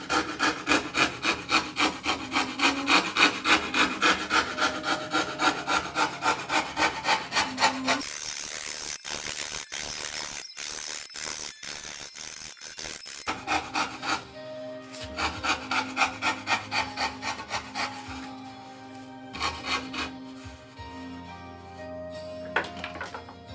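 A hand tool rounds the edge of a wooden Greenland paddle, making close, rhythmic rasping strokes in quick repeated runs with brief pauses between sets.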